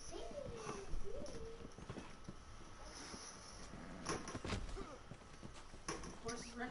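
Horse hooves clip-clop in a PS4 video game, a steady patter of footfalls running under loud, excited voices chattering throughout.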